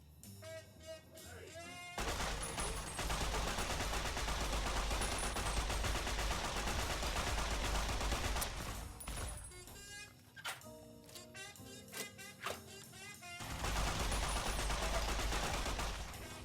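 Enemy gunfire in a very hard Fallout-style wasteland game, dense continuous shooting that fills most of the stretch, dropping briefly into sharper separate shots before a loud burst resumes near the end.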